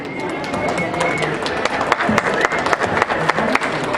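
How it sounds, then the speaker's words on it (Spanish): An audience at an education talk bursts into applause, a dense, even wash of clapping that holds loud for the whole stretch, with a few sharper claps near the end. "Fuerte aplauso, por favor"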